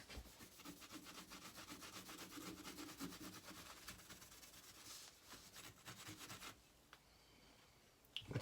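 Fine abrasive rubbing along the grain of a Smith & Wesson 686 revolver part, working out scratches: a faint, steady, rapid back-and-forth scrubbing that continues throughout with a few brief pauses and scrapes.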